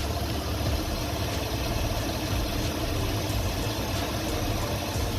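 A Chevy Silverado truck engine idles steadily and loudly up close, its low rumble carrying a faint irregular stumble from a slight misfire.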